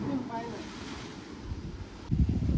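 Ocean waves wash toward the shore at an Alibag beach amid gusty wind buffeting the microphone, with a brief voice early on and a louder surge near the end.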